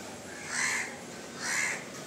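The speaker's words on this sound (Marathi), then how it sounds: "हे पा कावळे दादा येऊन बसलेले आहेत." Two loud, close crow caws spaced about a second apart, each a harsh drawn-out call, heard alone over a faint outdoor hush with no talk.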